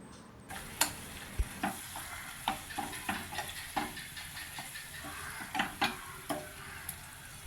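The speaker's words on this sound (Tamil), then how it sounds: "நல்லா கலந்து விட்டால் நல்லா வேகட்டும்" Chicken malai masala is stirred in a pan over the heat: repeated sharp scrapes and taps of a spoon sound at an uneven rhythm over a soft, constant sizzle, fairly quiet and close, with no voices.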